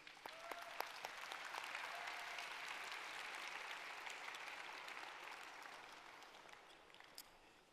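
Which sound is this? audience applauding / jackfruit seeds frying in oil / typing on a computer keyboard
audience applauding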